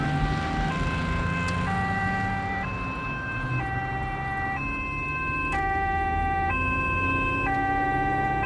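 An ambulance siren wails continuously during an emergency call-out in Falun, Sweden, cycling between two tones with a steady rising and falling pattern, loud and close over the low rumble of the vehicle's engine and road noise.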